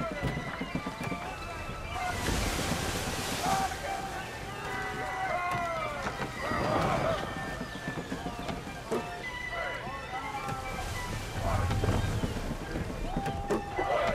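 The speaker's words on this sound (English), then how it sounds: "My ship's bigger than yours. Full sail! Full sail!" A sailing ship at full sail in Assassin's Creed 3, with steady rushing wind and water wash beneath repeated creaks and shouted crew calls, while someone talks over it throughout.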